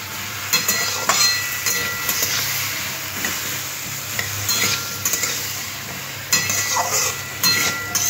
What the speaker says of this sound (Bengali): দিয়ে আলুটা আবার এই মশলার সাথে একটু কষে নিতে হবে।